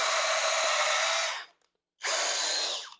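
A Hoto 12-volt brushless drill whirs loud and close in two bursts, a steady high-pitched motor whine for about a second and a half, a brief pause, then a second run of similar length that winds down.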